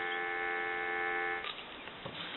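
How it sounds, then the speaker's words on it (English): A dial tone hums steadily from the handset of an NE Galion rotary desk telephone for about a second and a half, then stops and gives way to faint handling noise. "Give you some dial tone."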